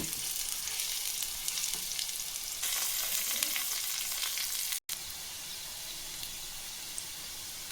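Raw banana (plantain) pieces fry in a pan with a continuous close sizzle and crackle that swells partway through, broken by one brief dropout.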